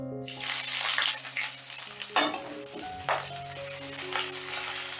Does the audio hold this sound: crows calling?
no